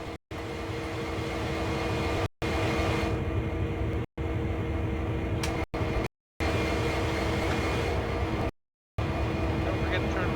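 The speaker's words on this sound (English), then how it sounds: "climb back aboard the locomotive and run it to the designated marker" A CSX heavy-haul diesel locomotive in Train Sim World runs with a steady, droning engine hum and faint whine, interrupted by several short gaps of silence, with a quiet voice at times.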